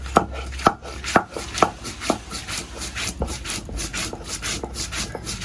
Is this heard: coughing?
no